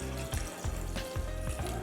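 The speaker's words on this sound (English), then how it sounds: "we're going to start by adding 4 cups of water to our brew bags" Water poured from a cup into a glass pitcher holding coffee brew bags, a brief, soft, steady splashing and trickling stream, close and fairly quiet.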